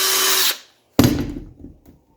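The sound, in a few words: burr bit grinding a U-joint yoke bore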